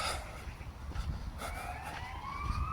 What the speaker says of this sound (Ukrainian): Швидка допомога кудись комусь.